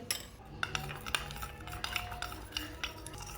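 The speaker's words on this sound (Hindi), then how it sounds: "कस्टर्ड को मैंने अच्छी तरह मिक्स कर लिया" A spoon stirs custard powder into water in a bowl, giving soft, irregular clinks and scraping taps at close range under a faint background hiss, with no talk.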